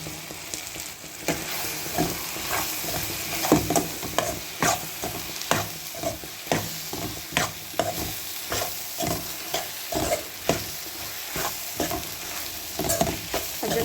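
Vangibath being stirred and fried with vangibath powder in a pan, a steady sizzle broken by repeated sharp scrapes and clacks of the spoon against the pan, close and alone.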